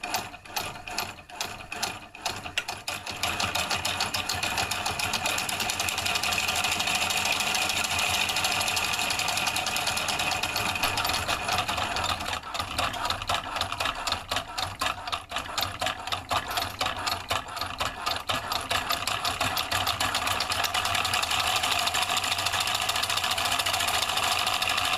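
Homemade two-solenoid electric motor running on a single solenoid, giving a steady, fast mechanical clatter like a ratcheting pawl or sewing machine that continues without a break, close and loud with no talking.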